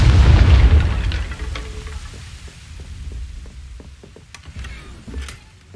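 A Confringo explosion spell cast in the video game Hogwarts Legacy lands as a loud, deep boom, then a rumbling tail fades over several seconds while faint clicks and game effects continue.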